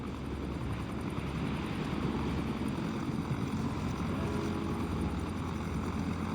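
A rescue helicopter drones steadily and loudly over the sea during an oil tanker disaster, its rotor chop pulsing continuously with a heavy engine roar and no voices.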